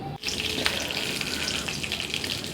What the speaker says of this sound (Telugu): నెయ్యి వేడెక్కింది వెక్కగానే ఏం చేసాము శనగపప్పు మినప్పప్పు మిరియాలు మెంతులు వేసాము